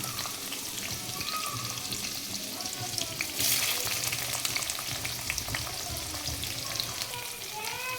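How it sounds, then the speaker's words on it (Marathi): Chopped onion with cumin seeds frying in a pan, a steady, close crackling sizzle with occasional stirring noises throughout. "चला, कांदा थोडासा भाजून घेतला आहे, जास्त लाल नाही करायचा आहे, मिडियमच भाजून घ्यायचं आहे."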